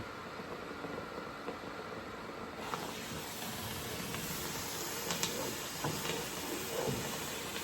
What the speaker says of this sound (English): just put a little steam on there again